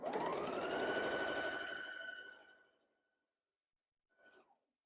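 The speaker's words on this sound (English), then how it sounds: "So a tiny bit of chain piecing, not a lot" Sewing machine chain piecing quilt fabric with a scant quarter-inch seam, a steady loud whirring run of about two and a half seconds that slows and stops, followed by a brief quieter burst of stitching.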